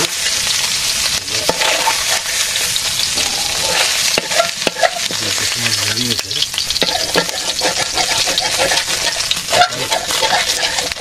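Water lily stems sizzle steadily in hot oil in a pan with dried chilli, bay leaf and mustard, a dense continuous frying hiss with occasional scrapes of stirring, close and fairly loud.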